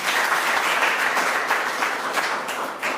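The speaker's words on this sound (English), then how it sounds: "Let's give him another warm round of applause" Warm audience applause at a conference session on under-utilised crops, a dense, even burst of clapping from a large room lasting a few seconds without voices over it.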